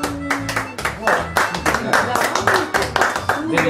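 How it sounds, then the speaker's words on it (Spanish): Applause for the cook at a gathering of friends, uneven bursts of clapping from a small group, close by, with voices talking over it. "aplauso para el cocinero"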